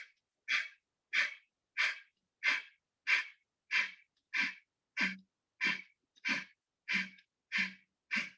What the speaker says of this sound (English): you breathe in, breathe out completely. Put this inside, and you go down, up. That puts the pressure on your pancreas, and you do Kapalbhati for 10 times.